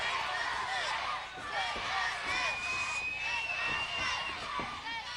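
Arena crowd at a 1999 Heroes of Wrestling pro wrestling event, cheering and roaring steadily throughout with a sustained whistle-like tone in the middle, loud and dense, with an announcer's voice mixed in.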